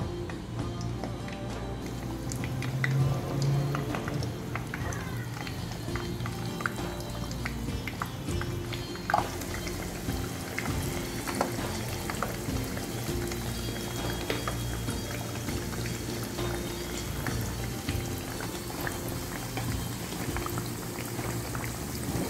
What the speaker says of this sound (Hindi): अब इस मिक्सचर के अंदर हम एक एक आलू इस तरह डिप करेंगे। उसके बाद हम इसको ऑयल में डालेंगे।